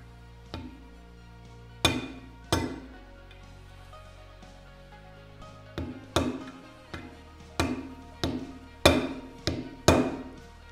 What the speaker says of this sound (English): use a punch to finish driving the roll pin in all the way in.